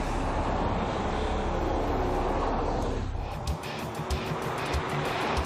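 A Mercedes-Benz ML 320 with a V6 common rail diesel or a BMW X5 driving through tight corners on the Austrian Motor Club's handling test track in Saalfelden, a steady loud engine and road roar that shifts and eases partway through.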